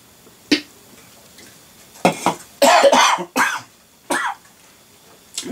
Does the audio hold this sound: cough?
yes